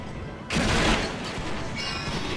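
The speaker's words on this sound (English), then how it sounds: "Oh gosh, cannons, I hate them." Cannon fire in the video game Soul Calibur Legends, a sudden heavy blast rolling into a dense volley of booms and crackling impacts that stays loud to the end.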